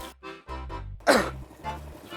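A sick man coughs once harshly, a single explosive burst after short bits of speech, with talk before and after the cough in an indoor scene.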